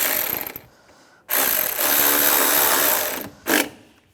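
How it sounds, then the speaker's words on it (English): Screws tightened down on the A/C condenser of a 2004-2010 BMW X3, heard as close bursts of power-driver whir, one long run of about two seconds between shorter ones, with no voices. "take these screws, get these started, and tighten them down"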